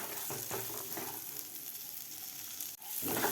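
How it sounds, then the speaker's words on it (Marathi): Fresh green peas fry in a pan with a soft continuous sizzle and occasional stirring scrapes, close but fairly quiet, with a brief dip near the end before the hiss resumes. "आता वटाणे सुद्धा आपल्याला एक मिनिटभर फ्राय करून घ्यायचे आहेत"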